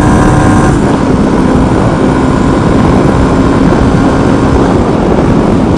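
A 1994 Suzuki DR250 six-speed motorcycle accelerates to highway cruising speed, its engine a loud, steady drone blended with heavy wind rush that holds without a break throughout.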